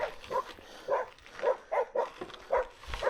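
Small dog barking outdoors along a gravel bike path, a run of short yappy barks in quick irregular succession, fairly close and with no talk over them.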